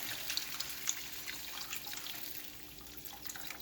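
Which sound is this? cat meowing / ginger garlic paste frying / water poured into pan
water poured into pan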